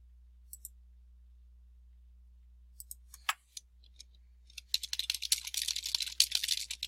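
Quiet computer keyboard typing, a few scattered clicks at first, then a rapid, continuous burst of keystrokes near the end over a low steady hum.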